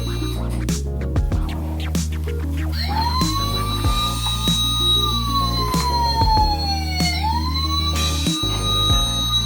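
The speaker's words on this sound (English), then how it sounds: "It turned on the siren." A toy fire truck sounds its electronic siren, with a loud rising and falling wail that repeats over a thumping looped tune, close and alone.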